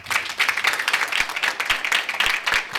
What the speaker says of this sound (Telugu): రై గారికి ఒకసారి చప్పట్లు కొడతాం